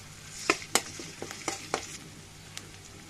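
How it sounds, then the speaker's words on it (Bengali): Chopped onion with ginger and garlic paste sizzling in a pan, with a soft fry beneath several crisp spatula scrapes and clacks spaced unevenly, up close and without speech. "পেঁয়াজটা আর রসুন বাটা, আদা বাটা ভালো করে কষিয়ে নিতে"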